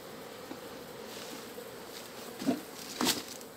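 Apis honey bees hum in a low, steady drone around an open hive, with faint taps and knocks near the end.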